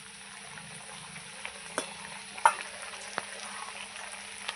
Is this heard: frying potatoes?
yes